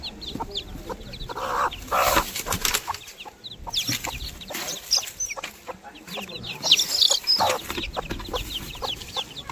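A hen clucks repeatedly in short, busy bursts close by, with other chickens and faint rustling around it.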